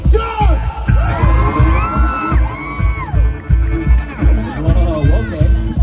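A crowd at a concert at Prolog Fest 2024 in Makassar cheers and whoops for the guitarist. Loud, rising yells ride over steady, rhythmic low thumps throughout.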